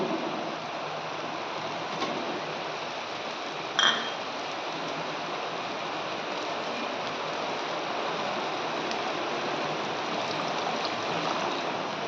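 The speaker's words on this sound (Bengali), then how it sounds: "একটু সামান্য জল দিয়ে দিলাম" Prawns cooking in spiced masala with pointed gourd hiss and sizzle steadily as a little water goes into the pan, a dense, even crackle with one brief sharp clink.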